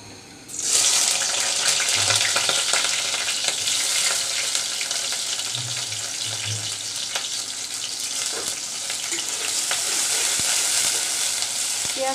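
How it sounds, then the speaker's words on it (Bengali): Chopped onion sizzles and fries in oil in a large cooking pot for a fish curry, a loud, steady, close crackling hiss with occasional stirring scrapes, and no talking. "পেঁয়াজটাকে একটু নরম ভাজা করে নিব।"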